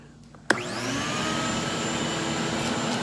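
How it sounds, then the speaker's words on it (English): A street vacuum and blower, used to pick up catalytic converter platinum, switches on with a sharp click and then runs as a loud, steady, close roar. "Here's the vacuum and blower."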